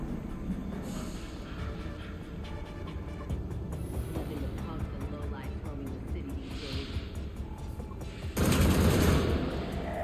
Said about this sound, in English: Who the fuck is shooting? Why is someone always shooting?